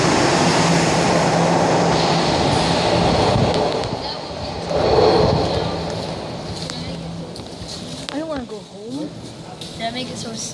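A Toronto subway train runs with a steady loud rumble and rushing hiss. The noise dips about halfway through, and a few squeals follow near the end. People talk underneath it.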